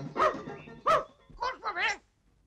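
A dog barks a few times up close, with short yelping and whining sounds between the barks.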